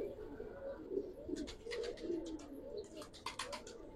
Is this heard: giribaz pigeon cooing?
yes